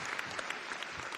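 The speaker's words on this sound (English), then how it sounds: "Round of applause for Mistress Stephanie." An audience at a late-night comedy show claps for a guest named Mistress Stephanie, a brief, dense burst of steady applause with no talk.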